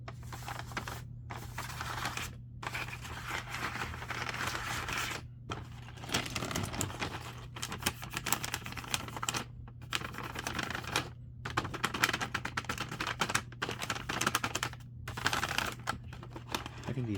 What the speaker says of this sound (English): I think these little bags provide much nicer sounds in general.